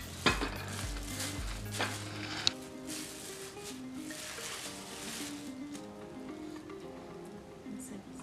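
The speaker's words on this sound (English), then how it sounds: "We have medium heat, and now we're gonna cook the chalupa." A vegetarian chalupa cooks in a pan over medium heat, with a steady low sizzle running throughout and a few clinks of utensils and pan near the start.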